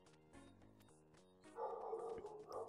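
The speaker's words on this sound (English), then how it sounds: "Oh, there's a dog barking. Ah, it's not my dog." A dog barks in a video game, a few short barks sitting amid busy game music that swells louder partway through.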